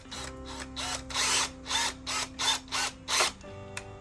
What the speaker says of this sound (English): Did I give you a drill bit that was too small for pilot holes?